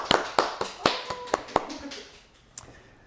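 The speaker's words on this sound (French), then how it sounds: "On applaudit." A few sparse, sharp hand claps ring out at uneven intervals, close and distinct, then fade to a final lone clap, with a voice speaking underneath.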